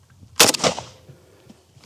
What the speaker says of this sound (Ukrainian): чи зможе деревина врятувати людину від пострілу з калаша